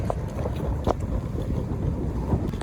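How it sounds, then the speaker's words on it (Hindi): Strong wind buffets the microphone on a Shanghai street, a steady low roar with gusty surges and no voices. "बहुत जोर से हवा चल रही है गाइस,"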